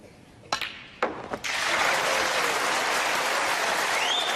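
A snooker crowd at a Ronnie O'Sullivan match breaks into loud, sustained roaring applause after a couple of sharp knocks as the pink is potted to complete a century break, continuing to the end.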